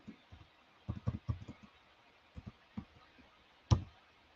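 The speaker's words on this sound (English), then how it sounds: "Okay, I'm typing it in now, Rose, so you can see it." Sparse keyboard typing, a few soft scattered keystrokes in small clusters with gaps, quiet and close, ending in one sharper louder tap, no talking.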